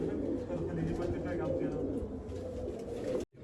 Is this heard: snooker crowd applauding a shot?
no